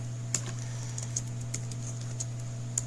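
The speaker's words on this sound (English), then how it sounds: "You guys are just going to have to hear me typing away." Light, irregular taps of typing on a computer keyboard, close by, over a steady low electrical hum with no talking.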